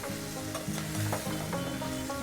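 Mixed vegetable pieces stirred with salt and turmeric in a frying pan, with a close sizzle and a continuous scraping, shuffling motion throughout and no talk.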